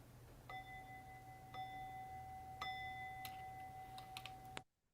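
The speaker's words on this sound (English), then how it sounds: "ring the bell" A bright bell-like tone rings out, struck several times with a sustained ringing tone over a low steady hum, fading out at the end.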